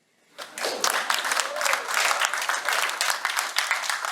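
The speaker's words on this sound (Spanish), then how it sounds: "y ustedes ahora aplauden" After a brief silence, an audience at a tertulia gathering breaks into close, lively applause that continues strongly to the end.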